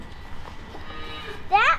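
On a farm, a calf or cow lets out a short moo near the end, fairly close, after a stretch of low background noise and faint voices.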